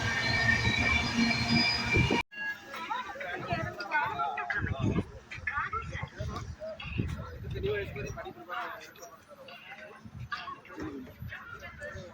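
AC double-decker express train no. 22625 running from Chennai Central to KSR Bengaluru, heard as a steady rolling rumble with faint track clatter, preceded by a loud tonal burst in the first two seconds.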